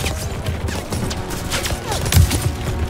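Scattered gunfire in the Call of Duty WWII game, a busy battle with overlapping distant and mid-range shots, crashes and a sharper nearby impact toward the end, under a constant rumble of combat.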